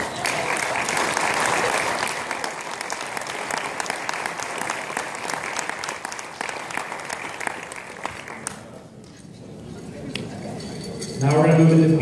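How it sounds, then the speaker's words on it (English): A round of applause at an awards ceremony fills most of the span, steady and moderately loud with faint clinks of dishes, then thins out before a voice returns at the end. "Give him a round of applause."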